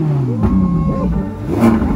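A Ferrari car engine revs loudly and close, its pitch climbing and sweeping in a couple of surges over a steady rumble.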